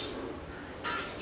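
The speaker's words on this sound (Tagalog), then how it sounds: "Ayan, kumakain na mga kalapatids." Pigeons cooing while feeding in a loft, soft low coos heard briefly with a faint chirp-like burst near the end.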